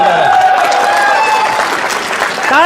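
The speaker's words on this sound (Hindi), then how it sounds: "ताली जोरदार होनी चाहिए।" Loud applause from an audience at a health and leadership session, steady clapping that runs the whole moment with crowd noise mixed in.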